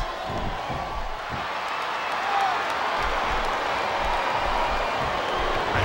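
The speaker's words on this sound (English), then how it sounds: "Sounds like this crowd's got something on their minds" Wrestling crowd in the video game SmackDown vs Raw 2007 during a women's match: a steady, broad roar of cheering and applause sits behind everything, loud and continuous, with commentators talking over it.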